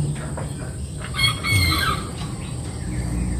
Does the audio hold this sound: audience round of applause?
no